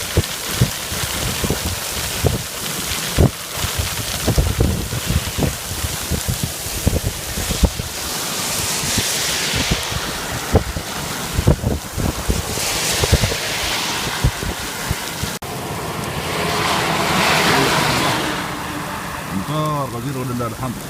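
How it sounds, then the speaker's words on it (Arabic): Heavy rainstorm in the UAE with lightning and hail, heard as a steady roar of rain and wind buffeting the microphone, with sharp bursts that may be hail or thunder, swelling louder near the end. "امطار غزيرة ولله الحمد."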